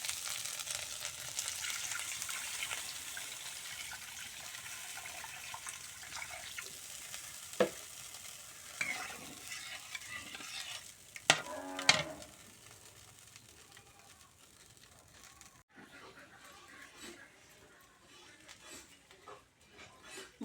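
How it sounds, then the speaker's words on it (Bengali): Potato curry bubbles and fries in a pan for singi fish curry, a soft continuous sizzle with occasional utensil clinks and scrapes, fairly quiet and close. "এখন তরকারি জাল হতেছে, তারপরে মাছ দিয়ে দেবো।"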